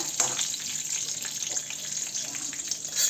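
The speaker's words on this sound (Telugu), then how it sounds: "నెయ్యి కాగిన తర్వాత జీడిపప్పు మీకు ఇష్టం ఉన్నంత వేసుకోవచ్చు." Cashew nuts fry in hot ghee for pesara pappu garjalu, giving a steady, close sizzle with faint crackles throughout.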